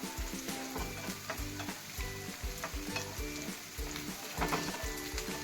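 Chopped green chilies and onion sizzle in a pan while being stirred for anda bhurji, with steady frying crackle and repeated scraping strokes of the spoon, close and alone with no talk.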